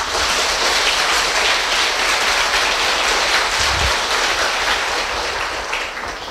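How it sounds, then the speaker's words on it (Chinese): An audience applauds at a performance, dense and sustained clapping filling the room before it begins to taper off at the end. "那么我们要为今天的气氛再鼓掌一下"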